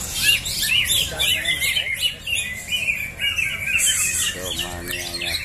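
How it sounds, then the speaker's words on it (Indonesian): Green leafbirds (cucak hijau) call in a bird fight contest, with a dense, continuous stream of loud, overlapping chirps, squawks and whistled phrases close by. "Burung cecak hijau"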